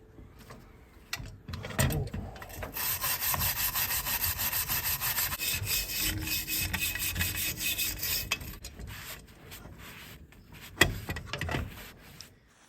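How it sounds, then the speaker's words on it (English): A brush scrubs rust off a steel brake pedal bracket from a 1965 Mustang in quick, rasping back-and-forth strokes, starting and ending with scattered scrapes and knocks around a dense middle stretch of continuous scratching. "I'm just gonna brush off all this rust."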